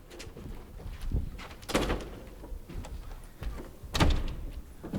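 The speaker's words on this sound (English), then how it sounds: "Nothing but flapping doors in this house." Doors bang and flap on a stage during a high-school theater performance of the farce Noises Off, with several thumps and slams scattered over a few seconds against the room's ambient noise, and no clear speech.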